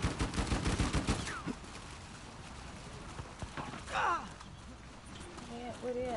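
Gunfire in Uncharted 4 multiplayer, a burst of rapid shots near the start followed by scattered single cracks, all mixed under players chatting over voice.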